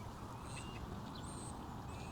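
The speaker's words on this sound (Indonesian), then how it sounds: "Bisa dengar suara burung berkicau" Faint ducks quack several times in a quiet small-town park in West Wyalong, thin calls over a soft, steady outdoor background.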